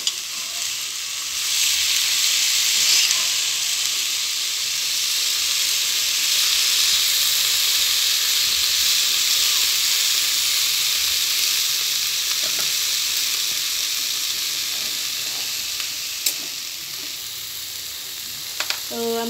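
Sliced potatoes sizzle in hot oil in a home kitchen, a steady broad hiss filling the whole stretch with a few brief clinks of stirring near the end.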